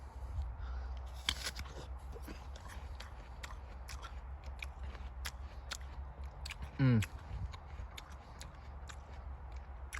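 Someone biting into and chewing a Parkland apple, a crisp crunch near the start followed by soft intermittent chewing clicks, with a brief low thump later; no talk.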